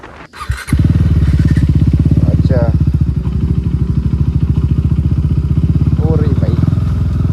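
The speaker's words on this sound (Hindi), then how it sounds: "मेरा बाइक पता नहीं क्यों मिसिंग हो रहे हैं" A KTM Duke motorcycle engine runs at close range after starting, with a loud steady pulsing idle that is slightly uneven. Brief speech is heard over the engine.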